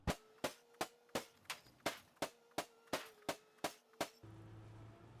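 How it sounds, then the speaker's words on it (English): A sledgehammer striking scrap in the Foxhole video game: ten sharp, evenly spaced metallic impacts about half a second apart, then a low steady hum once the strikes stop. "The sledgehammer is an upgrade to the hammer."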